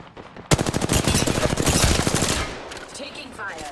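Rapid automatic gunfire in Apex Legends, a sustained burst of dense, evenly spaced shots up close that tails off into quieter scattered noise.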